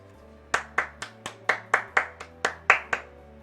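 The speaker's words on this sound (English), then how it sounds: "The applause quickly spread throughout the entire restaurant." Steady hand claps in a video game, about a dozen evenly spaced sharp slaps, close and clear over a faint low hum.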